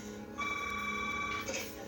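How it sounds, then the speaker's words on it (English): A telephone rings inside the White House at 3 a.m. in a 2008 Hillary Clinton campaign ad: one steady electronic ring tone lasting about a second, clear and moderately loud over a quiet background. "It's 3 a.m. and the phone's ringing in the White House"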